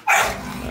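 A single sharp bark from a dog, likely a pit bull–type female among puppies, rings out loud and close, then trails off into brief room noise.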